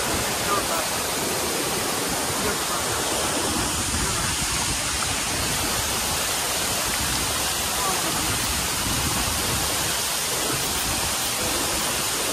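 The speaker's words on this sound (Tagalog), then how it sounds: "kita-kita ko yung taktak ng tubig na lakas" Rushing water at Vera Falls, a loud, unbroken roar of the waterfall pouring down, heard close and steady throughout with no pauses.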